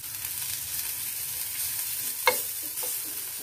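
Green chili and spring onion fry on a tawa with a soft, even sizzle, close by and fairly quiet, broken by one sharp utensil scrape and a fainter one a moment later.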